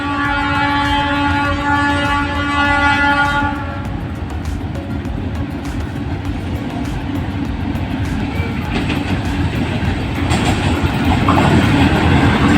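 A train hauled by a locomotive approaches Khair Pur railway station, its horn blaring steadily at first before giving way to a loud, close rumble and clatter of rolling wagons.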